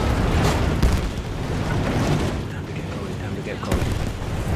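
Booming grenade blasts and thudding explosions fill the Battlefield 1 battle scene as dense continuous combat noise, with sharper pops scattered through it. A voice talks over the din.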